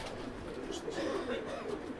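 Pigeons in a rooftop loft in Thessaloniki coo in a steady, soft murmur through the whole stretch, several birds layered together at close range with no one speaking.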